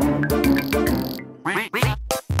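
A cartoon duck from the Pocoyo animated series quacks in a run of loud, nasal honks, several spaced calls in the second half following a burst of bright cartoon music.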